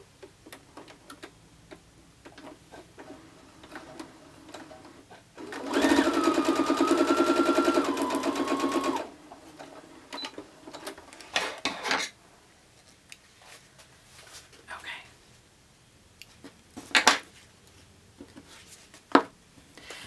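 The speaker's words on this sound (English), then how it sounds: "now take this to the sewing machine and sew." A sewing machine whirs in one rapid, steady run of stitching a mini quilt seam for about three seconds, framed by quiet clicks and handling noises.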